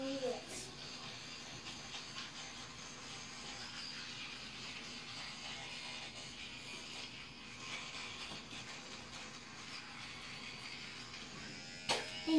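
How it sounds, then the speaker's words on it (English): A steady high-pitched electric buzz runs without a break, like a powered toothbrush, with a faint hiss and a short bump near the end. "Then you turn the toothbrush off."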